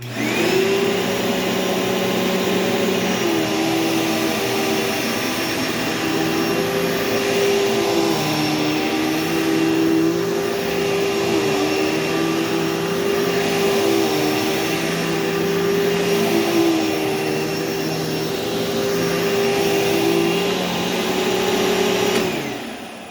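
A 2011 Dirt Devil Breeze bagless vacuum cleaner runs steadily and loudly, its motor whine wavering with an intermittent high squeal throughout.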